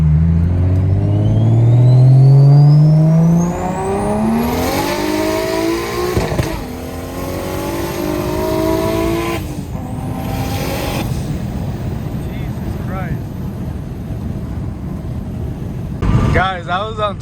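Turbocharged car fitted with a Precision Pulsar 6466 turbo at about 20 psi accelerating hard, engine note climbing steeply through several gear pulls, loud and close, with wind and road noise and a voice near the end.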